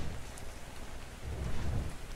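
Rain and thunder in the survival video game ARK: Survival Evolved: a steady hiss of rainfall with a deep, rolling thunder rumble that swells louder through the second half, and no voices.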